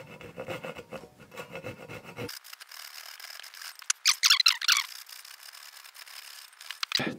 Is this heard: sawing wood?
yes